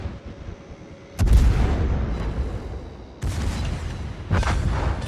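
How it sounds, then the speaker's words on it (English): Battleship Georgia's heavy naval guns fire in a video game, three loud booming salvos spaced a couple of seconds apart, each followed by a rumbling tail. "Those Georgia guns are a nasty customer."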